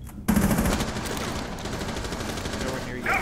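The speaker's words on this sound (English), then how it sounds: "Easy to hear all the gunfire with you shooting everywhere!" Dense, rapid automatic gunfire from the video game Rainbow Six Siege crackles continuously and loudly through the whole stretch, with a brief voice near the start.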